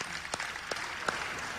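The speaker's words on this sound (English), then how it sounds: "Huge round of applause." Applause from a summit audience honouring councillors at One Young World 2015 in Bangkok: a steady, fairly quiet wash of clapping with a few sharper claps standing out, and no voices over it.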